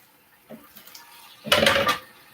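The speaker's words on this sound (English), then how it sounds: "And again, I'm going to add a little bit of water." Water is poured into a hot pan of warming red and orange peppers, a brief faint splash followed by a louder burst of hissing sizzle lasting about half a second.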